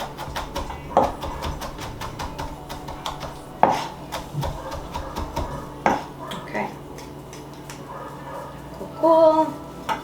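A knife finely minces garlic on a cutting board, its chops landing as soft, scattered taps with a few sharper knocks, close by and without any talk.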